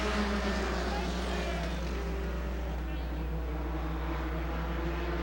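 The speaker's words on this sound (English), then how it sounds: "green flag, let's go racing." A field of short-track race cars at Rockford Speedway roars off at the green flag on an opening night in 1996, a dense, continuous engine drone filling the whole moment under a race announcer's voice.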